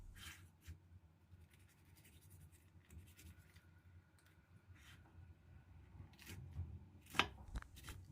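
Knife slicing peeled fruit into bite-size pieces on a cutting board, a string of soft, quiet close-up cuts and taps with a few sharper knocks toward the end, no talk.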